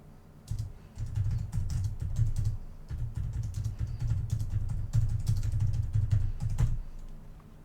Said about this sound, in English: As you can see, I am typing.